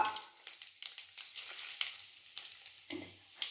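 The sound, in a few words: tempering mustard seeds, asafoetida, dried chilli in sesame oil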